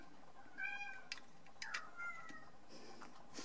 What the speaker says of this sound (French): J'entends des Goliaths qui miaulent, Goliath qui est en pleine chaleur.